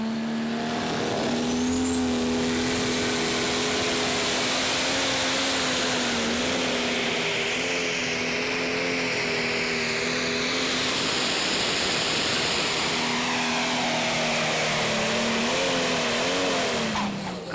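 John Deere prostock pulling tractor at the 2012 Eurocup in Herning, Denmark, roaring at full load through a full pull, a loud sustained engine howl with shifting pitch, close and continuous, with no talking over it.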